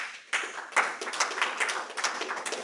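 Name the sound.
audience applause after a presentation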